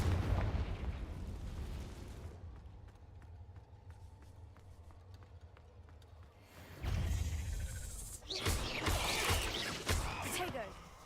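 Confringo fire spell in Hogwarts Legacy lands as heavy booming bursts at the start and again near the end, with a quieter stretch of ticking between them and a voice talking at times.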